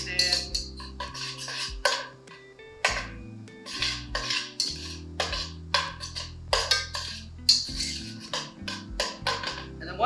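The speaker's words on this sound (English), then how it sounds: "You're going to get it in there, and you just want to keep stirring, okay?" A metal utensil repeatedly clinks and scrapes against a pan while pasta carbonara is stirred, producing irregular close taps and knocks over a steady musical bed.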